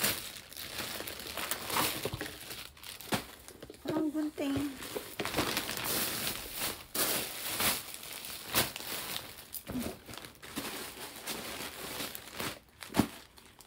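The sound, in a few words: plastic packaging crinkling while unboxing a parcel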